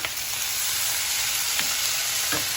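Tomatoes and onions frying in a pan for paneer Kolhapuri, a steady close broadband sizzle with a few faint stirring scrapes, no voices.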